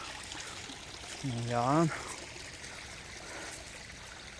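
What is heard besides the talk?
strong flowing water in a stream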